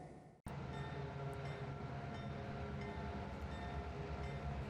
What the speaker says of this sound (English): Train's pretty heavy, so we're having to run at notch 4 here to get started.